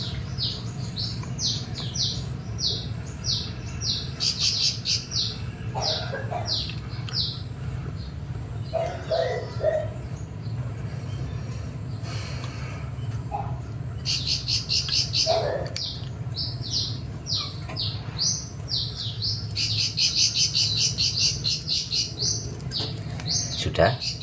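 Pet birds chirp and call in repeated bursts of rapid, high tweets over a steady low hum, with scattered quiet voices and short cooing notes between the bursts.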